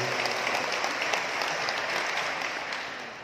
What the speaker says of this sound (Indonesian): sebelumnya kita tepuk tangan untuk anak-anak yang hebat tadi telah menyampaikan